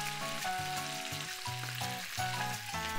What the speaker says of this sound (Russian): можно уже добавлять чеснок. Он сейчас начнет активно ароматизировать масло